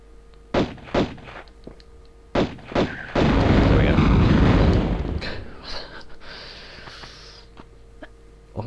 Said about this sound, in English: Always with the explosions.